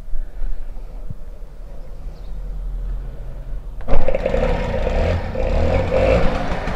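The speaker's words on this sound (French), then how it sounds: "Allez, on teste un petit démarrage à l'ancienne au pied." A moped engine kick-started the old way by foot, a quiet stretch with light clatter before the engine catches suddenly and settles into a buzzing, rattling idle close by.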